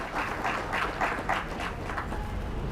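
An audience claps at a celebration of Birsa Munda's 150th birth anniversary in Sri Vijayapuram, with steady applause rising in a loose rhythmic pulse of bursts for a few seconds, moderately loud and without talk.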